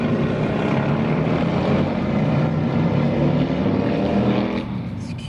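Motorcycles pass by as a loud, steady engine roar that holds for several seconds, then tapers off slightly toward the end.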